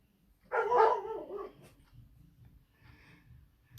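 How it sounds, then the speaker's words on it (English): Dogs barking at someone at the door: a short burst of barks, loud and fairly close, then faint whimpering and low rustling noises. "My dogs were going crazy."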